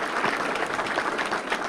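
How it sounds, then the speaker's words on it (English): Audience at a school board meeting clapping for a student award winner, a short burst of dense, fairly loud applause. "So let's give ELISE a round of applause."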